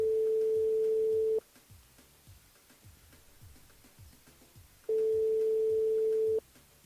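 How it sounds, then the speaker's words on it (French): A telephone line tone on a live radio morning show as the host calls a listener: two long steady tones, each about a second and a half, separated by a quieter gap of faint background sound, with no talking. "Après, on appelle Madison du côté de l'entre-deux."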